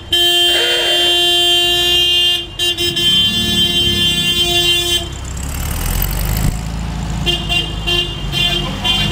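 Vintage cars in a reconstructed 1969 traffic jam on the Route Nationale 137 at Pons sound loud, close horns, with a long steady toot over engine rumble. Shorter honks follow after a brief break.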